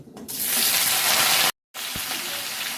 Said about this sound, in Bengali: তেলটা গরম হয়ে গেছে আমি এই আলুটা দিয়ে দিচ্ছি